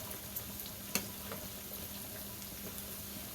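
Plantains frying in oil in a skillet, a steady soft sizzle with a few faint clicks and taps as a slotted spoon moves them around.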